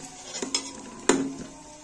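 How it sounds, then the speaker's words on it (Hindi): Onions frying in a pan for mash dal: a metal spoon clinks twice against the pan over a low, steady background hiss, with no talking. "यहाँ पे हमारा प्याज फ्राई हो रहा है।"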